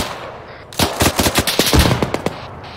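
Automatic gunfire in the military shooter Arma 3: a loud, close, rapid machine-gun burst of about a dozen sharp cracks packed into under two seconds.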